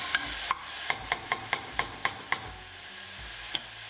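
Onions with a pinch of salt sweating in a pot for mushroom risotto, with mushroom pieces added: a series of sharp, evenly spaced spoon-on-pot scrapes and taps over a faint low sizzle, near and alone.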